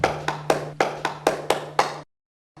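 One person clapping alone, eight sharp claps in an even rhythm over a low steady hum, then silence and a faint final tap.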